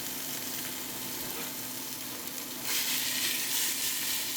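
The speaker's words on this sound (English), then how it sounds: "We're going to go ahead and just get everything broken up and get it sauteed up here, get it brown." Impossible plant-based ground meat sautéing in a pan for vegan cabbage roll soup, a steady close sizzle that grows louder and brighter partway through.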